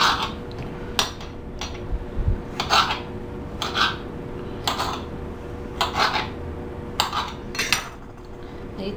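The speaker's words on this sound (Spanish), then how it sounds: "Lo vamos a picar y también se lo vamos a poner aquí." A knife chops seeded tomato on a board for chicken salad, a steady series of sharp, close taps about one per second over a faint background hum.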